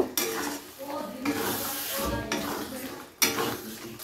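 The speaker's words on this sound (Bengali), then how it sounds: "এবারে আবারও এই সমস্ত মশলাকে খুব ভালো করে একসাথে কষিয়ে নেব।" Spices and ginger paste being stir-fried in a pan for a chicken curry, a steady sizzle with repeated scraping stirs of the spatula against the pan, close up and with no talking.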